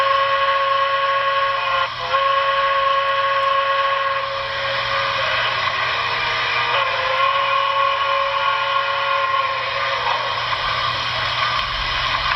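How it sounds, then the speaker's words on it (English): A sustained, steady steam-style whistle tone from a Broadway Limited Santa Fe 4000 class 2-8-2 model locomotive with Paragon 4 sound, function 22 auxiliary whistle, sounds continuously, a bright multi-note chord with slight pitch wavers, loud and close. "Here is the whistle, the auxiliary whistle, function 22."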